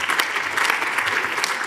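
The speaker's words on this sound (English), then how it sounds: "give him a round of applause as well" An audience at a medical genetics lecture gives a brisk, dense round of applause, close and loud, sustained evenly for the whole moment.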